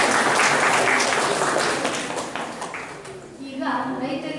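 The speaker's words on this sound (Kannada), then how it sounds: "ವಿಶೇಷ ಉಪನ್ಯಾಸ ವಿದ್ಯಾ ವಾಚಸ್ಪತಿ ಕವಿತಾ ಕೃಷ್ಣ ಸರ್ ಅವರಿಗೆ ಚಪ್ಪಾಳೆ ಮೂಲಕ ಧನ್ಯವಾದಗಳು." An audience at a lecture on the poet Kuvempu applauds after a special talk, a dense, fairly loud burst of clapping that thins out toward the end.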